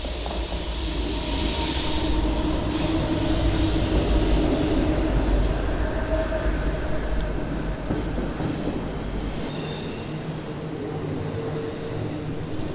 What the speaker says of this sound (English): Oh, here's a train coming.